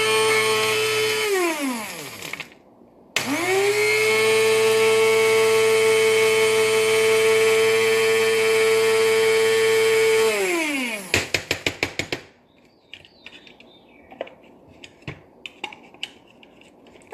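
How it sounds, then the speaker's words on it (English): A cheap, low-powered food grinder pureeing baby food: the motor whines up, stops briefly, then runs at a loud steady pitch for several seconds before winding down, followed by scattered clacks of handling. "you might want to get a grinder that's not as Mickey Mouse as mine"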